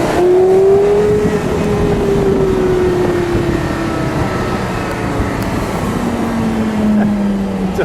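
A yellow 2005 Porsche Carrera GT cruises on a highway, its engine a loud, steady drone with a tone that slowly falls, then lifts slightly near the end, heard from inside the car with no talking.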